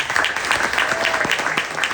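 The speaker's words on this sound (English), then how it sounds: "So just give them a huge round of applause." An audience at a Friends of Charlie Kirk event applauds in a dense, steady wash of clapping that carries on evenly for the whole two seconds.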